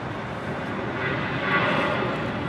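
Airliner taking off from runway 25 right at Los Angeles International Airport, a broad steady engine roar heard from a distance, swelling slightly in the middle.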